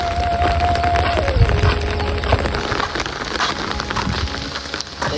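Steady rain pours over soybean fields in a rural Marathi village, a dense, continuous patter and hiss with occasional heavier drops thudding nearby, a faint tonal whine drifting underneath, and no voices.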